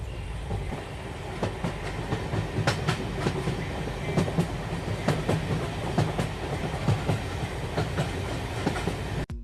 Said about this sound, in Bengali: যথাসময়ে ট্রেন ছাড়ল